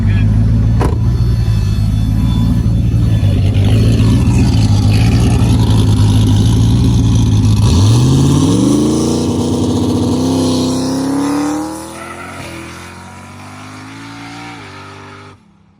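A no-prep drag car makes a pass on a fresh, untreated road, its engine roaring loud and steady, then climbing in pitch through the gears before backing off and fading toward the end. No one talks.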